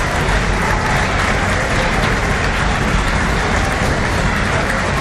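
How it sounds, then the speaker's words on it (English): A wrestling crowd at the IWC Night of the Superstars event cheers and applauds loudly, a dense, steady roar with no pauses that fills the whole arena from start to finish. "Crowd rallies behind Anderson"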